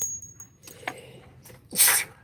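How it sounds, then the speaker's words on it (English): A single sharp sneeze bursts out near the end, loud and close, after a stretch of quiet background rustle. "Oh, start out sneezing."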